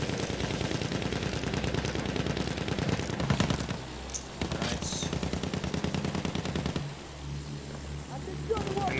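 Rapid automatic fire from an anti-aircraft gun in the Battlefield 1 video game on Monte Grappa, rattling loudly in dense bursts with brief gaps, mixed with other battle noise and engine drone.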